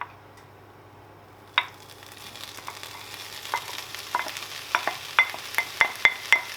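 Tofu hitting hot coconut oil in a pan: a sudden sizzle that builds, then a run of sharp clicking stir strokes and scrapes growing louder and more regular toward the end, no talking.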